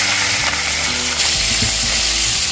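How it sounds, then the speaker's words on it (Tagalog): Milkfish sizzling in hot oil in a pan, a steady dense crackle with soft bubbling and a few faint clinks, close and continuous with no talking. "Prito muna natin."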